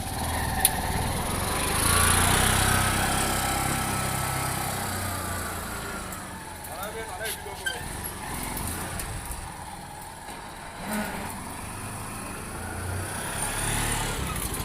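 A keke (auto rickshaw) engine runs steadily close by in first gear, a rough buzzing putter that swells and eases, mixed with road rumble and no talking.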